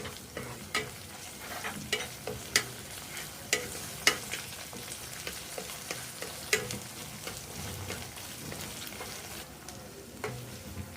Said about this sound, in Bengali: এখন আমি দিয়ে দিচ্ছি কাঁচামরিচের ফালিগুলো আর আদা রসুন বাটাটা এখন আমি এগুলোকে হালকা কষে নিচ্ছি